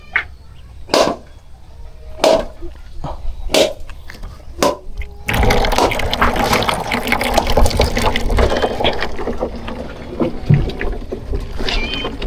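Water runs into a container during hollow-block construction work, starting with a few sharp knocks and splashes, then switching to a steady, close gushing pour that continues to the end.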